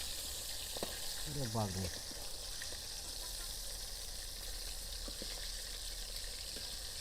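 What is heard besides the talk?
pangas fish frying in pan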